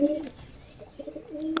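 A male pigeon calls near its mate, who sits on eggs, giving soft low coos in short bursts with brief pauses, fairly quiet and close.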